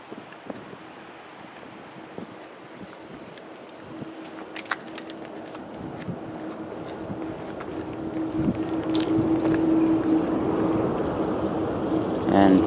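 A Delta Airlines Airbus A320 flying in to Boston Logan from Minneapolis rises as a wind-buffeted jet rumble, growing louder over several seconds with a faint steady tone.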